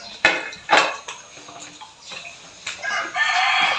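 Chicken clucking and rooster-like calls sound close by in a home yard, a few sharp bursts and a longer squawk, with clinking of dishes or pots in the background.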